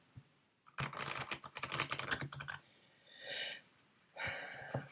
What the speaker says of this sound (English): Okay, so I'll just give them a good shuffle.